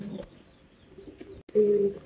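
Maxi racer pigeons at a fancy pigeon farm in Natore make low, soft coos, with a short faint one early and a louder, fuller coo near the end after a brief silence.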